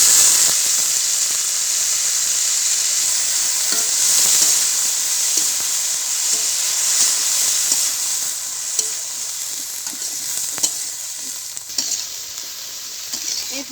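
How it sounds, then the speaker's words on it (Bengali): Figs drop into a pan of fried onion and chilli, giving a strong, hissing sizzle that holds for several seconds and then eases into a lighter crackle with occasional pops and stirring clicks. "পেঁয়াজ মরিচ ভাজা হয়ে গেছে। এখন আমি ডুমুর ফলগুলো ছেড়ে দেব।"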